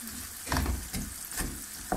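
Chopped onion frying in hot oil with bay leaf, a steady close sizzle that swells in short bursts as the pieces are stirred.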